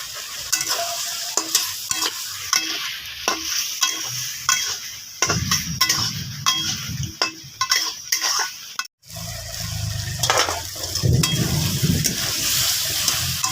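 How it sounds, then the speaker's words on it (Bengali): Boiled potatoes are stirred with spices in a hot pan for aloo dum, with repeated spatula scrapes and knocks over a steady sizzle, a brief gap midway, then louder frying. "এরপর দিয়ে দিব সিদ্ধ আলু"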